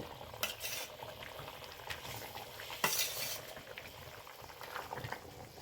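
Fried small rohu fish slipping into a pot of bubbling curry gravy and being stirred, a steady simmering sizzle with soft spoon scrapes and one brief louder splash-clatter partway through, close and without speech.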